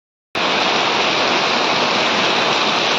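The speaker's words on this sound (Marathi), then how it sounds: "आला मुसळधार पाऊस परत आला बघा" A heavy downpour of rain bursts in suddenly after a brief silence, then roars on as a loud, close, unbroken wash of noise.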